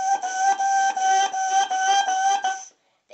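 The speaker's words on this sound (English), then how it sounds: "what you're really supposed to do is you're supposed to tongue the notes" Bassoon playing a quick run of tongued notes on a steady pitch, about eight clear articulations in a row at moderate volume, ending in silence.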